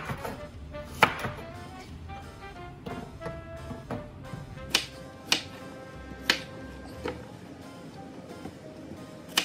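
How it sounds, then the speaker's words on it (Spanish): A knife chops Italian squash into pieces on a cutting board, giving sharp, uneven knocks at an irregular pace, close and moderately loud over a quiet background, with no voice heard. "También cortaremos nuestra calabaza italiana en pedazos más o menos del mismo tamaño que la cebolla y el pimiento morrón"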